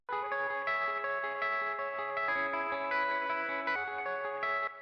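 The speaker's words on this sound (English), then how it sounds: "it's basically the same guitar melody, just multi-tracked" Layered electric guitars play the same melody together, with a thick chorus-like shimmer and echo; steady, moderately loud, no voices.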